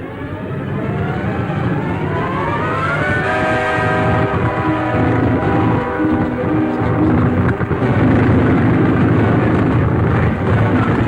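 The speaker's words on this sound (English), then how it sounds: "Listen. An aeroplane." An airplane engine drones steadily in an old 1937 jungle film soundtrack, a loud rough hum with rising, shifting harmonic tones as it passes overhead, noisy and lo-fi throughout.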